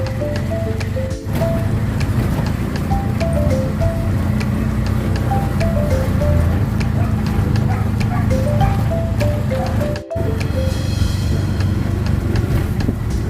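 A motorized tricycle ride through Buhangin in Davao City. The engine keeps up a steady rumble with road noise close by, and brief tonal beeps come and go over it.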